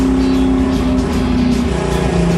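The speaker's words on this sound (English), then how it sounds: "So Lucky is on his practice laps right now with Randy in the car." An AMC Javelin race car runs practice laps on a track, its engine droning loud and close with a steady, sustained tone that shifts pitch slightly as the car moves.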